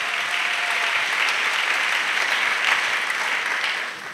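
A church congregation bursts into dense, steady applause that holds for several seconds at an even level, then begins to taper off at the very end.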